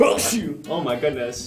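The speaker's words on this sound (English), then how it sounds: "That's a sneeze." A single sharp human sneeze bursts out near the start, followed by a person speaking a short exclamation close to the microphone.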